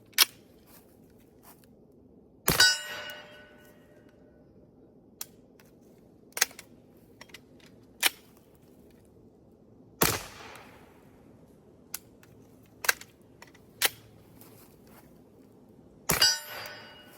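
A PSA Rock pistol's slide is racked by hand, giving sharp metallic clacks at irregular intervals with a few softer clicks in between, close and alone against quiet room tone.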